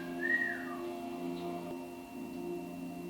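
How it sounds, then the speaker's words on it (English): A single short rising whistle rings out clearly over a steady low hum, then fades. "The whistle."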